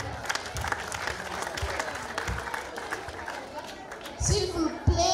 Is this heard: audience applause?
yes